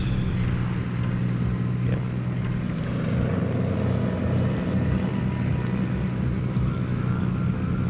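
Aircraft engines in the naval video game World of Warships, heard as a steady, continuous low drone with a broad rushing hiss over it, even and unbroken throughout, with no speech.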